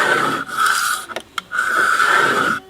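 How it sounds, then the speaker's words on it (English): A scraper drawn across the top layer of a fiberglass patch on a Bayliner Ciera 2455 boat gives close, rasping strokes, two long scrapes separated by a brief pause with a couple of small knocks. "the best thing to do was scrape the first layer off the top and then come back with the sander"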